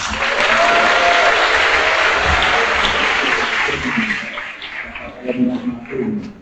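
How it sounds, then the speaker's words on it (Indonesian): Loud, dense clapping from a crowd at a church Confirmation Mass in Yogyakarta that fills most of the stretch, then thins and fades out toward the end. "Tepuk tangan dari mana?"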